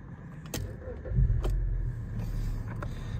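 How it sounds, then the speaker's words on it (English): A 2010 Hyundai i30 1.6 estate starting up: a few clicks, then a brief crank that catches into a steady idle, heard close and loud with no talk. "I'm going to start the car up quickly for you because I want to show you it starting up"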